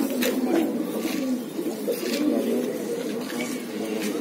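An imported pigeon, received as a gift, coos repeatedly inside a loft, its low rolling calls close and steady with faint chirps from other birds behind.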